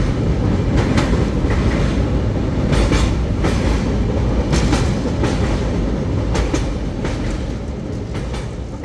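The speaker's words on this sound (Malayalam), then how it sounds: "കേരള എക്സ്പ്രസ്സിൽ 3 AC കോച്ചാണ് ഞങ്ങൾ അങ്ങോട്ടും ഇങ്ങോട്ടും ബുക്ക് ചെയ്തിട്ടുണ്ടായിരുന്നത്." Kerala Express train in motion as heard from inside a 3 AC coach: a steady, loud rumble of wheels on rails with recurring clickety-clack bursts throughout, no voices.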